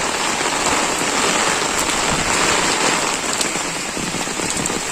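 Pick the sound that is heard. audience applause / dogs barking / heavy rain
heavy rain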